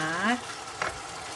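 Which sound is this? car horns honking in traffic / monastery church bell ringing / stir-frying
stir-frying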